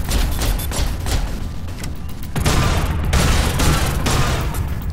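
Gunfire in The Fall video game, dense rapid bursts of shots with thumping booms, loud and continuous across the whole stretch, with no talk over it.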